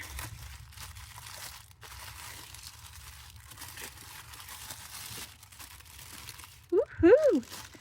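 Plastic packaging around a Surf's Up bead strand crinkles and rustles in soft, uneven bursts up close, ending with a short excited vocal exclamation.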